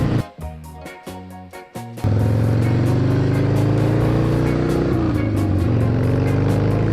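A 1976 Harley-Davidson Ironhead Sportster revs through a few throttle blips, then settles into a loud, steady engine drone while riding on the highway in fourth gear, close up with wind rush.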